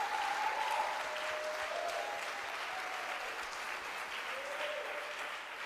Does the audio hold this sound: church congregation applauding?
yes